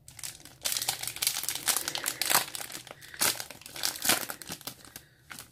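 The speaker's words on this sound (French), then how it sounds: "Donc on va s'ouvrir le quatrième booster." A Yu-Gi-Oh booster pack is torn open up close, a burst of crisp crinkling and tearing foil wrapper that runs in rustling waves for several seconds before fading out.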